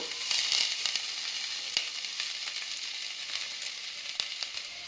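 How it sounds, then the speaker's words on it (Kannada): Garlic and ginger frying in half a spoon of ghee in a pan for vegetable soup, a continuous close sizzle with scattered spitting pops and occasional clicks. "ಈಗ ಗಾರ್ಲಿಕ್ ಹಾಕ್ತಾಯಿದ್ದೀನಿ, ಮತ್ತು ಜಿಂಜರು"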